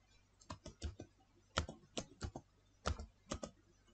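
Typing on a computer keyboard in Windows 10, a few separate close keystrokes in small bursts with brief pauses, clear and moderately loud in a quiet room.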